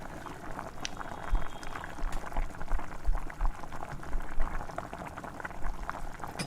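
Water with blue flowers simmers at a rolling boil in a pot while a spoon stirs it to keep it from foaming over, giving a steady, dense bubbling with no voices.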